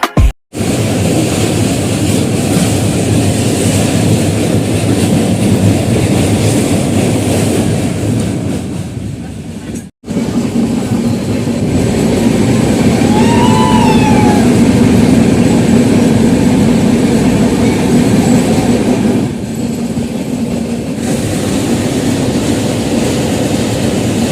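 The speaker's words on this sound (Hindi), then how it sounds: "सो 1525 किलोमीटर कवर करने के बाद ये ट्रेन अब हमें लेके आ चुकी है बिन्नाकुड़ी रेलवे स्टेशन" The Kamakhya Express runs into a railway station with a steady, loud low rumble of wheels and engine for over twenty seconds. A brief cut breaks it partway, and a faint whistle-like tone rises midway.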